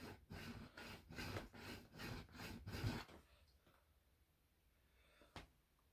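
Back-and-forth sanding of guitar frets during a neck dressing on an Edward Stingle guitar, a rhythmic series of about seven gritty rasping strokes for three seconds, then near silence with one faint scrape.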